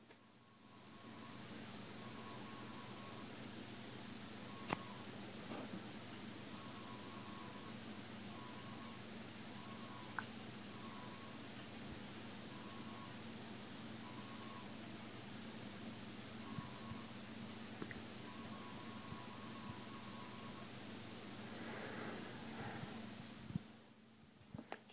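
A ripple control signal on a mains power line, heard as a faint, thin ringing tone that pulses on and off in irregular bursts under a steady low hum and hiss.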